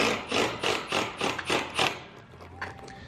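A screw gun drives screws into a metal roofing sheet on a garage roof, about six short close bursts in a steady rhythm followed by quieter handling noise.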